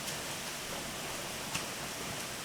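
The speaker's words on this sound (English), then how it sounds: "It's hailing like crazy." Hail falls outside as a steady, dense hiss of small impacts with an occasional louder tick, continuous and even throughout.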